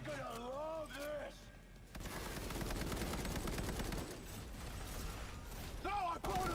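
Gunfire from the game Cyberpunk 2077 erupts in a dense, sustained burst of rapid shots that fills the middle seconds, with a voice talking just before and right after the shooting.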